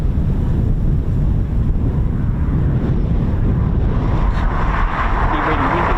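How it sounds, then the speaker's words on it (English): Strong wind buffets the microphone with a continuous loud roar at an RAF quick reaction alert station during a Eurofighter Typhoon display practice, with no break throughout. "It's really windy"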